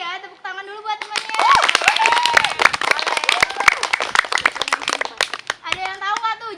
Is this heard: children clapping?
yes